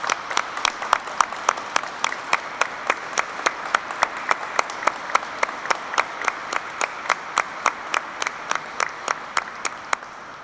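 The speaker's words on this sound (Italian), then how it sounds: "Io direi che possiamo fare un bellissimo applauso di ringraziamento a loro" An audience at a prayer vigil applauds in thanks. Steady, even crowd clapping runs throughout, with a regular beat of louder claps standing out, and no talk over it.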